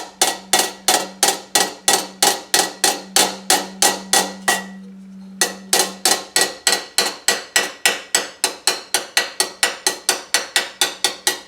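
Rapid, steady hammer blows on a dented tin toy ring out in a continuous metallic rhythm, pausing briefly midway before resuming; close and loud, no voices.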